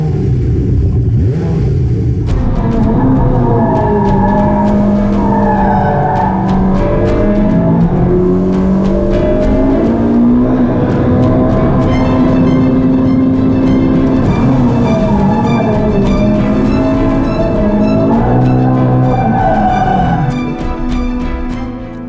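A Ferrari 488 Pista sports car drives hard on a track, its engine revving and accelerating loudly and repeatedly through gear changes, rising and falling pitch close by, with no talking.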